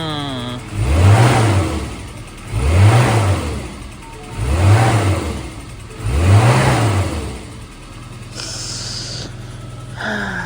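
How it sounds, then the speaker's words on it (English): A Japanese kei car at an auction revs four times in a steady rhythm, each rise and fall distinct and close. The engine then settles into a low idle, and a brief higher noise follows near the end. "Let me give it some revs."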